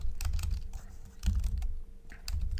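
Someone types on a computer keyboard in short bursts of rapid clicking keystrokes, close and distinct, with brief pauses between runs over a low background hum.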